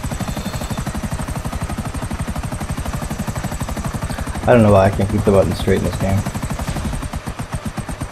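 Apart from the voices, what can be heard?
helicopter in video game Grand Theft Auto V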